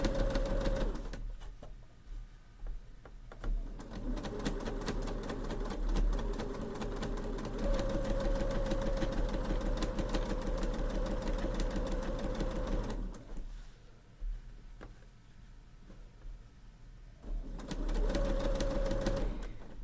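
A sewing machine stitches bias-cut Halloween bunting fabric in long continuous runs, its rapid mechanical whir steady and close, pausing twice briefly before resuming.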